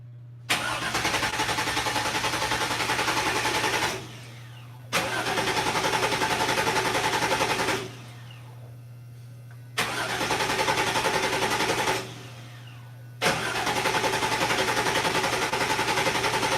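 A Toyota FJ40 engine cranks in four long bursts of steady, whirring starter churn with short pauses between, never catching, over a constant low electrical hum.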